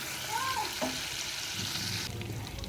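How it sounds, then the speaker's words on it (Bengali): Ginger and garlic fry in butter over low heat with a steady, close sizzle throughout, while a voice sounds briefly near the start. "বাটার দিয়ে দিলাম আদা রসুন গ্যাসটা আস্তে করে একটু ভাজতে হবে"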